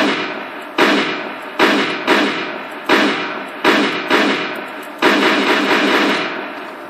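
M14 SSR rifle firing in Garry's Mod: seven loud, sharp shots spaced at irregular intervals of roughly a second, each with a booming report and a short decaying tail, with no voices.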